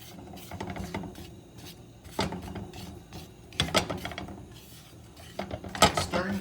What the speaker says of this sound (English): Stirring constantly